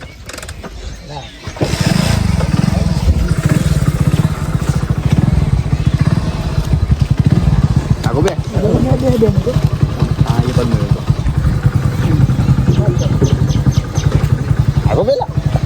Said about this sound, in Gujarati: પ્રવીણભાઈ બાઇક ચાલુ કરે ચાલુ કર ફટોફટ